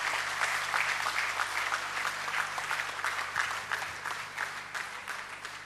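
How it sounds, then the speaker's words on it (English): Sustained applause from an audience at a real estate convention in Mumbai, India, a steady dense clapping crowd filling the whole stretch without pause. "Can we have a round of applause,"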